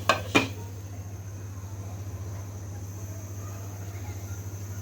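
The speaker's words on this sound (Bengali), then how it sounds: "আমি আবার ঢাকা দিয়ে দিব।" A lid is set onto a pot of simmering Bengali country chicken curry. Two quick metallic clanks come right at the start, then a steady low hum and soft bubbling hiss carry on alone.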